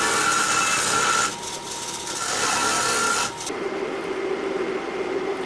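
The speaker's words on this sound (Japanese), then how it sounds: "軽く削ってきました。" A hand file lightly rasping scrap metal for a DIY folding fire pit made from scrap and welded rebar. Close, steady filing strokes run in two loud stretches, each broken by a short pause, with no talk.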